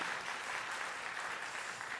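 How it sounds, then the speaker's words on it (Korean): Steady, even applause from a church congregation during a Sunday service, honouring two choir members, fills the whole short stretch at moderate distance with no pauses. "박수로 격려하겠습니다"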